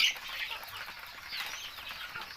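Chickens on a native chicken farm cluck and chatter faintly at a distance, with a soft rustling background and no talk.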